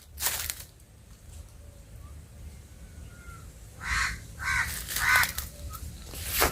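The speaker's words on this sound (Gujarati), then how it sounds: "આજે મારી જોડે આવી ગયો છે કાગડો" A crow caws loudly nearby, one call at the start and then a run of harsh caws near the end, over quiet outdoor background.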